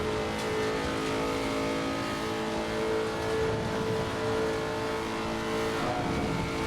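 Race car engine in Assetto Corsa Competizione on the Nordschleife, a loud continuous high-revving drone with steady harmonic tones, holding near full throttle with slight pitch shifts and a hint of tire noise, no talking.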